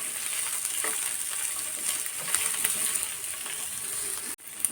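Ginger and garlic roast with moong dal in a hot pan, giving a close, constant sizzle with light stirring scrapes and a brief pause near the end; no voices.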